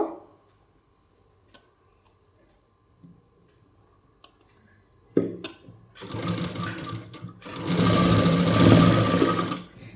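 A sewing machine stitches a tag onto a petticoat piece, starting after a few faint clicks with a loud close whirring run that pauses briefly and then continues steadily until it stops.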